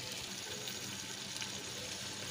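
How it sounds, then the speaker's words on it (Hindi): Water pours steadily into a pan of fried chicken and potato masala for pulao, giving a continuous, fairly quiet rushing gush with no talking. "तो अब मैं इसमें पानी डाल दूँगी।"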